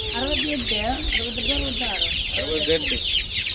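Dozens of young chicks in an enclosure peep and cluck continuously, a dense chorus of high chirps over a low background rumble.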